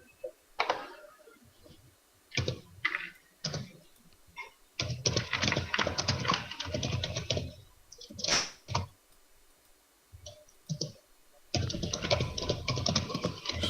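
A computer keyboard rattles with bursts of typing and sharp clicks during a tabletop role-playing character creation session, loud and close, in clusters separated by short quiet gaps, with occasional voices underneath.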